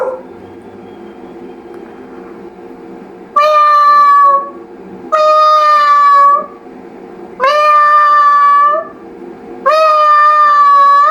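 A mimicry artist imitates a crying cat with four loud, drawn-out wailing meows at steady intervals, separated by quiet pauses, delivered clearly and close.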